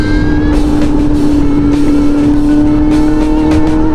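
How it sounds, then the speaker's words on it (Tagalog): Ducati Monster 937 motorcycle engine braking on a road ride, a loud steady engine drone with a strong sustained tone that dips slightly while the bike slows, wind rush throughout, no talking. "Engine brake."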